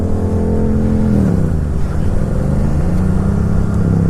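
A Honda Rebel motorcycle engine runs close and loud, with a steady idle that swells into a rev and then settles back to a rumbling drone, with no talk.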